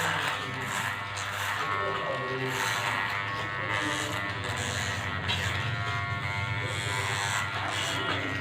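An electric hair clipper buzzes continuously during a box haircut, a steady close hum with slight changes as it moves through hair, while someone talks over it.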